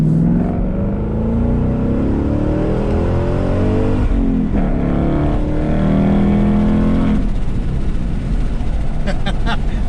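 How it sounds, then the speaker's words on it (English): A manual Ford Roush Mustang accelerates hard in second gear, its engine note climbing steadily and loud from inside the cabin, then easing as it reaches speed; a voice talks briefly over it. "let's do one last acceleration here for you guys. So we are in second."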